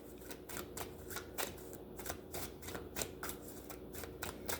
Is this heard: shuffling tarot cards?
yes